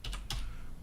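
A quick burst of computer keyboard typing while searching for a plugin: three close keystrokes, two together then one more, over a low steady hum.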